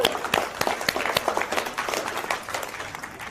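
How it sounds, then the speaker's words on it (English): Audience applause ringing out after a stage presentation, a dense run of claps that starts strong and thins slightly toward the end, with a little crowd noise mixed in. "Could we have a round of applause?"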